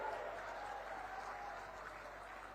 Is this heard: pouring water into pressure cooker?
no